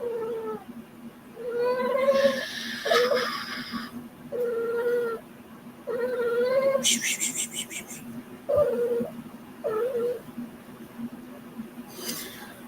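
A cat meows repeatedly indoors, a series of about eight drawn-out, wavering meows separated by short pauses, close and fairly loud.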